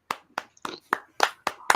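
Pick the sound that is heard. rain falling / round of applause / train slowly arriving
round of applause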